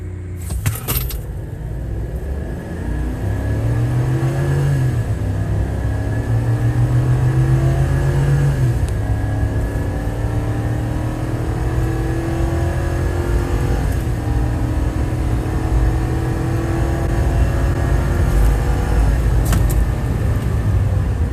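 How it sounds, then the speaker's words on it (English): A 2024 Chevy Silverado 3500 pickup with the gas L8T engine accelerates hard in tow haul mode with traction control off, heard from inside the cab as a loud, sustained engine drone that climbs in pitch through several gear shifts. "The truck did feel quicker off the line"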